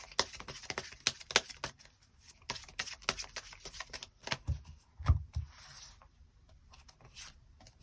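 Tarot cards shuffled and drawn by hand, a close, quick run of riffling flicks and soft slaps, ending in a few heavier taps as cards are laid down.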